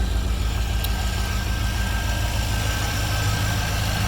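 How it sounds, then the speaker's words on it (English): A third-generation Chevrolet Camaro engine idles steadily up close with a low, even pulsing rumble, and normal belt and pulley whir runs through it with no talking. "I'll let you listen to that motor for just a second. It's all normal belt and pulley noise."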